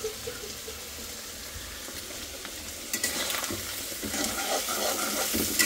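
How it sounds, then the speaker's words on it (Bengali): Cabbage and bottle gourd stir-frying together in a pan, a steady close sizzle with scraping stirs that grows busier and louder toward the end, no voices. "নিচে পাতাকপি আছে, প্রথমবার করতেছি পাতাকপি আর লাউ ভাজি একসাথে।"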